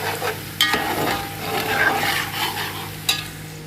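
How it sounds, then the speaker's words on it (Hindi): Onions browning in a pan with garlic and ginger, frying at home in a large batch, give a steady sizzle with a few sharp clanks of a stirring spoon. "प्याज हो रही है ब्राउन, इसमें मैंने लहसुन अदरक भी डाल दिया है।"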